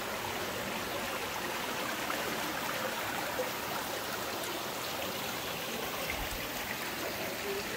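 Iron-rich, rust-coloured water trickling and splashing down steps at Kokkino Nero in Greece, a steady close-up rush of running water with no voices.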